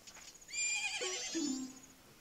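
A horse in The Legend of Zelda: Majora's Mask 3D whinnies once, a bright rising-and-falling neigh ending in a low snort, fairly close and clear with no talking.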